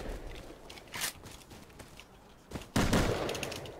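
Gunfire in a first-person shooter game, a few sharp shots in the first half followed by a louder sustained burst of rapid fire near the end, close and crisp.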